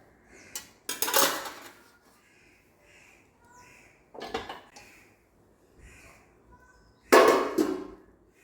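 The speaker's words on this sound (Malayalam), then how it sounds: "കണ്ണ് തുറന്ന് ഇളക്കി കൊടുക്കാം കേട്ടോ." A lid comes off a pot of banana flower biryani and the rice is stirred, giving a few sharp metallic clanks and scrapes spaced seconds apart with quieter rustling in between.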